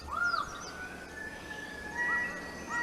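A rainbow lorikeet calls in a New Guinea forest, giving harsh, screechy, rising-and-falling cries at moderate distance over a steady bed of forest ambience and other distant bird voices.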